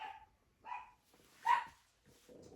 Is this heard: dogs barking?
yes